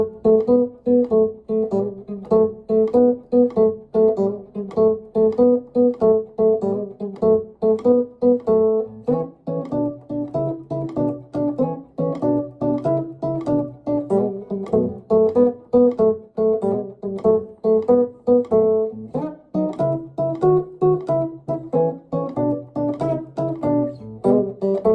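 Chicago blues guitar pattern, early electric blues style with open strings, played in full as a steady repeating riff with plucked notes and bass movement, moderately loud and continuous with no talking.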